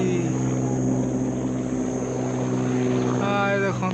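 A helicopter flies overhead above a jungle area in Tamil Nadu, its steady droning rotor hum loud and constant throughout while people talk nearby.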